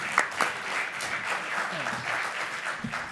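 A conference audience at an academic panel on moral character applauds steadily for about three seconds, a dense wash of clapping with a couple of sharper claps near the start and a voice surfacing briefly at the end.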